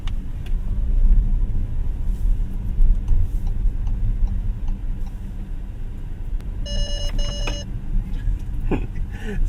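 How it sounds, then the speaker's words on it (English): A 2025 Ford Territory Hybrid's pre-collision assist gives a rapid series of sharp warning beeps, bright and distinct over the steady low rumble of the car driving on the road. "So that's the pre-collision assist."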